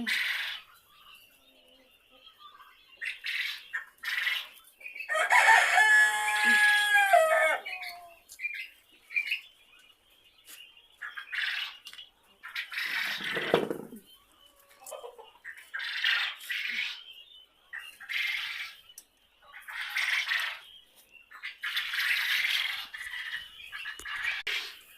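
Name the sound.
young chickens calling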